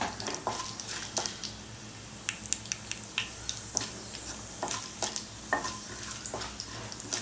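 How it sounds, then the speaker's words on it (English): Mustard seeds, jeera and urad dal splutter in hot oil, crackling with a busy stream of sharp little pops over a steady sizzle, close up. "Till the mustard seeds start spluttering"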